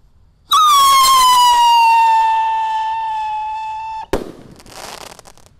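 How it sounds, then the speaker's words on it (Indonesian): A red Piro Roketar firework rocket launches with a loud, piercing whistle that glides slightly downward for about three and a half seconds, then ends in a sharp crackling bang, close and with no voices. "Selanjutnya kita nyalakan Piro Roketar yang warna merah ya."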